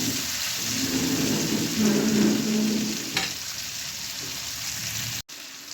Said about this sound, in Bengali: পেঁয়াজটা যখন একটুখানি লাল লাল হবে ততক্ষণ ভেজে নিতে হবে।